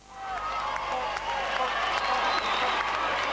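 More than 10,000 people line the streets of Truro in 1991 to welcome the Cornwall rugby team's open-top bus parade, a broad wash of clapping and cheering heard with some nearby talk.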